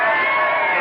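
A crowd outside yelling and cheering, a dense steady roar of many voices heard from a distance, continuous through the moment.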